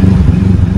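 Standard automatic scooter engine with adjusted ignition timing, idling with a fast, choppy low-pitched thumping like helicopter blades, loud and close.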